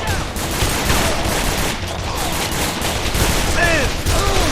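Dense gunfire fills a shootout in Call of Juarez: The Cartel, a loud continuous fusillade of overlapping shots with brief shouted voices mixed in.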